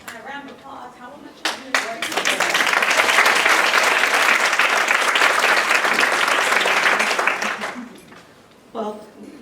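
Loud audience applause at a women's summit session on resiliency, a dense burst of clapping swelling after brief talk and holding for several seconds before fading back under a speaker's voice.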